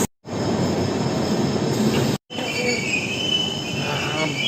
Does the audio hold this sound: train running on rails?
yes